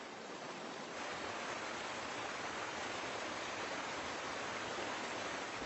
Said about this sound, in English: The torrent charges through the narrow gorges of the ranges, eroding the land.